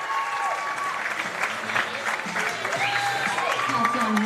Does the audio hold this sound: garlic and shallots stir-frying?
no